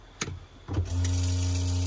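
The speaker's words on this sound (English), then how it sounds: "And our water pump." A van's electric water pump starts up after a couple of switch clicks and settles into a steady, loud whirring hum with a tonal drone, running continuously and close by without speech.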